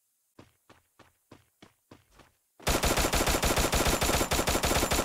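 Shotgun fire in the Free Fire video game: six spaced, punchy shots in a row, then a dense, loud burst of continuous rapid gunfire.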